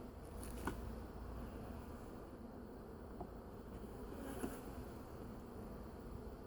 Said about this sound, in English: It looks like I crushed a bee